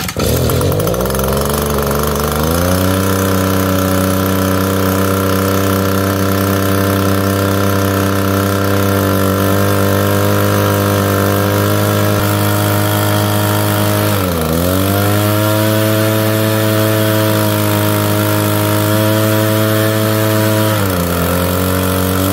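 Small two-stroke engine of an Echo PB-250 leaf blower running steadily during carburetor tuning, a loud close buzzing drone that dips and recovers briefly twice as the speed changes.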